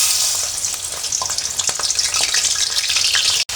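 Shrimp frying in hot oil in a home kitchen, a steady close sizzle with crackling pops, dense and continuous, with a brief break near the end.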